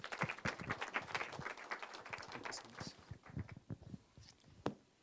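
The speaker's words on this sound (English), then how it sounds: "One more round of clapping, applause for Bob" Applause at a community networks summit after a speech, a faint scattering of individual claps from a modest audience, irregular and somewhat distant, with a louder clap near the end.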